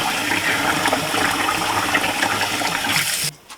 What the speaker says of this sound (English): rinse the conch